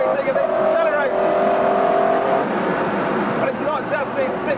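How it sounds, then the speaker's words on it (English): A McLaren F1's 627-horsepower V12 engine accelerating hard on the road, a loud sustained roar with a rising whine that carries on throughout, heard with a voice talking over it. "But perhaps the most impressive part is the engine. It just goes on accelerating and accelerating."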